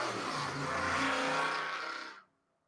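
Motorcycle roaring past outdoors, a loud, broad engine rush that swells and then fades out abruptly, with no talking.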